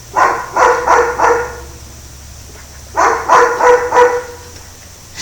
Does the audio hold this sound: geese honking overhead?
no